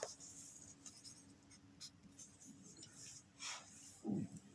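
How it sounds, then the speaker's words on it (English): A pen scratches across paper while someone writes down numerical data. The scratching comes in faint, close, uneven strokes with short pauses between them, and no one speaks. "I'm going to write down the given data"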